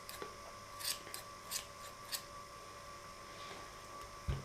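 Scissors snip at a yarn pompom in a quiet room, about five short, crisp cuts spaced irregularly, close and fairly soft over faint background hum, with no talking.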